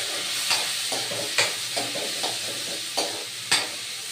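Onions fry in a pan with a steady close sizzle and a few sharp stirring scrapes spaced through it, and nobody speaks.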